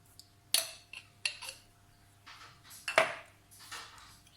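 A metal spoon clinks and scrapes against a jar or dish of strawberry jam several times, quiet and close, with short sharp taps separated by softer scraping.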